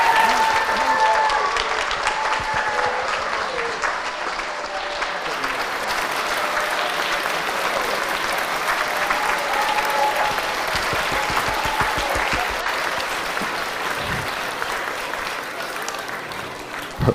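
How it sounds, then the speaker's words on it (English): Sustained applause from a standing crowd at a veterans event, a dense, even roar of clapping that carries on for well over fifteen seconds before tapering with a few scattered claps. "Would you please stand with me and give her a round of applause?"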